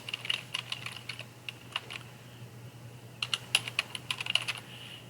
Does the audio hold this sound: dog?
no